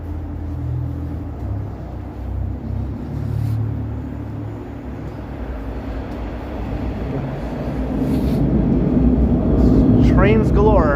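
Subway trains in snowy Toronto rumble past at night, a low rolling roar that swells louder toward the end, with faint squealing near the close and no speech.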